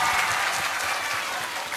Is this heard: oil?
no